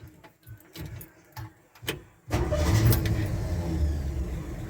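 A 1965 Chevy truck's engine cranks with several rhythmic starter churns, then catches and settles into a loud, steady rumbling idle, close by with no talking.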